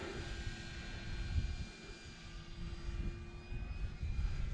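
Electric motor of an E-flite Air Tractor RC plane running on the runway, a steady whine that rises and falls slightly in loudness, heard alone without talk.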